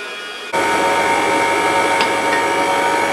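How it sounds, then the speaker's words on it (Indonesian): An electric mixer kicks in at high speed to beat batter for coffee bun dough, a loud steady whirring drone with rattling mechanical texture that runs without a break after a short quiet start. "Oke, kita kocok lagi, kecepatan tinggi ya."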